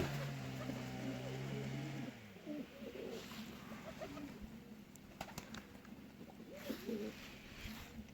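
Pigeons kept in a village coo softly in a low, repeated rhythm, with a steady outdoor background and a few sharp knocks.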